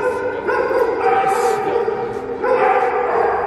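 A dog barks and yips in a short burst of repeated calls, close and fairly loud, with a person talking over it at a dog-friendly place in Miami.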